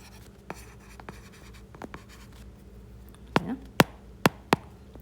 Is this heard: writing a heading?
yes